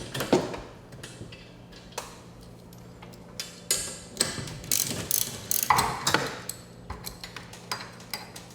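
Winding bars releasing tension on a garage door torsion spring in a two-spring setup, irregular metallic clicks, clanks and ratcheting knocks at close range, uneven in rhythm with short pauses, no talk.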